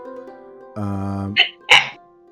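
A single sharp sneeze bursts out close by after a brief throaty build-up, preceded by a steady droning tone.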